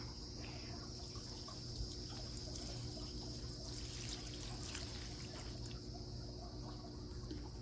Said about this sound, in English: the leftover water, I'm just going to go ahead and dump in this plant